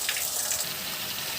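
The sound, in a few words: water poured onto rice for pulao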